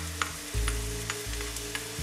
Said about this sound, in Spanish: es el momento de ponerle los taquitos de jamón